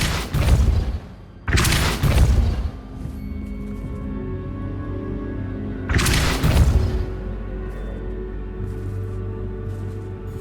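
Three heavy booming blasts from the Depulso spell in the Hogwarts Legacy video game: two in quick succession at the start and a third a few seconds later, each thudding loudly over a steady low game-ambience hum.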